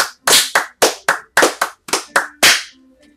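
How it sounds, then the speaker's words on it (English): A round of hand clapping, about a dozen sharp, loud, separate claps in an uneven rhythm, close by and with no talk over them. "let's all have a round of applause."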